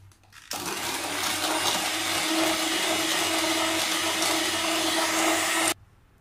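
Chocolate cake batter being mixed with half a cup of oil by an electric appliance: a loud, steady whirring drone that starts abruptly, holds for about five seconds and cuts off sharply.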